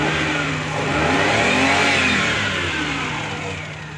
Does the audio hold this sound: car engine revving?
yes